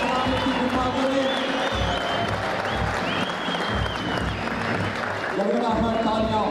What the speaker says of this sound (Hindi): गड़गड़ाहट तालियां होती रहनी चाहिए।